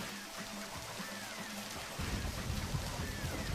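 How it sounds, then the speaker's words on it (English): Rain falls steadily in the video game Deadly Premonition, a soft continuous hiss with low rumbling underneath that grows heavier partway through, with no talking. "Now it's raining."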